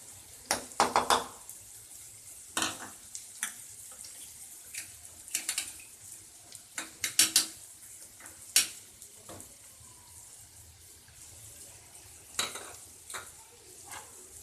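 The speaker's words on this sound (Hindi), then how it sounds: "तो इसको आप हल्का हल्का हिलाते जाएं।" Salt, chili and turmeric stirred and frying in a pan, with scattered scraping clicks of a spoon over a soft steady sizzle, close and fairly quiet.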